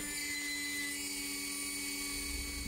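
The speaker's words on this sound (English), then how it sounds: "Then I'll use the completely wrong drill bit to botch the whole thing." A power drill with a mismatched bit bores holes in a thin copper shim for a controller analog-stick removal tool, giving a steady, high-pitched whine that holds throughout with a low rumble creeping in at the end.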